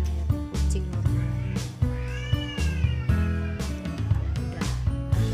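A grown mother cat meows in a few drawn-out calls over continuous background music.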